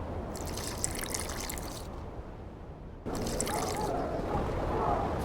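Water poured into an alchemy flask in The Witcher 2 makes a steady rushing trickle that stops for a moment and then resumes more fully, with a faint voice underneath.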